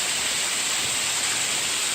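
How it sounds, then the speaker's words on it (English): An unnamed waterfall of roughly 25 to 30 feet on the South Prong of Middle Creek in Pisgah National Forest, North Carolina, gives a loud, steady, unbroken roar of rushing water with no voices. "This is a awesome 25, 30 foot unnamed waterfall on the South Prong of Middle Creek."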